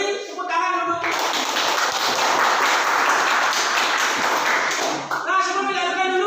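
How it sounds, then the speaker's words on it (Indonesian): A classroom of students claps together, a dense burst of applause that swells suddenly, holds for about four seconds and stops sharply, with brief voices before and after. "beri tepuk tangan dulu"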